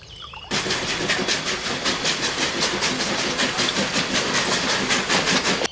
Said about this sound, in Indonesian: Muncullah lokomotif kereta uap.